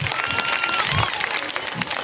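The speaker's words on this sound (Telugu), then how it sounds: "Big claps to her." Students clap for a classmate in a classroom, a steady patter of applause from a group lasting about two seconds, with a voice speaking over it.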